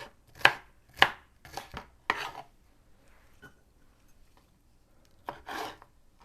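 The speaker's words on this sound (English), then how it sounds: "I'm just going to finish chopping up my peppers and my onion." Knife chopping peppers and a medium-sized onion on a board for soup: a few sharp, separate chops, then a quiet stretch with faint scraping, then one more pair of chops, close and dry with no talk.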